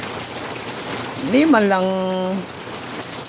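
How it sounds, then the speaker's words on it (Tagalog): Rain patters steadily onto a waxed, ceramic-coated Yamaha Nmax scooter, a soft continuous hiss of drops close by, while someone speaks briefly in the middle. "Natalbog yung mga tubig ulan, no?"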